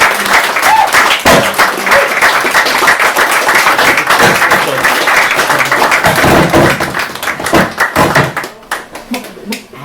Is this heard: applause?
yes